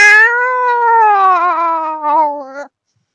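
A human voice imitates a cat with a single long, loud, pathetic meow that wavers and sags in pitch before cutting off abruptly into silence.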